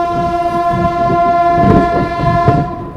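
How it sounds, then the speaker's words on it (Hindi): The Mussoorie Express bound for Dehradun rolls by with a sustained loud horn and rhythmic clickety-clack of wheels over rail joints, close and steady throughout. "बाकी निकल चुकी है अपनी मसूरी एक्सप्रेस टुवर्ड्स देहरादून की ओर"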